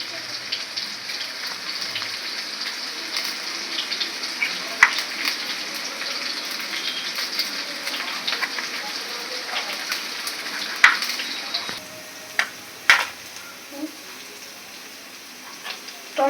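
Vegetables with green chili sizzle and crackle in a hot pan in a continuous rain-like hiss, with occasional scraping stirs, and the frying grows quieter toward the end.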